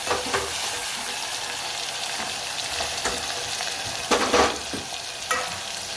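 Ingredients are mixed and fried in a pan, with a steady moderate sizzle and intermittent scraping stirs, a few louder scrapes near the end, and no talking.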